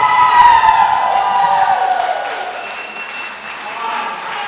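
A crowd at a pro wrestling event cheers and applauds loudly with sustained whistling and shouting, while a commentator talks over the noise.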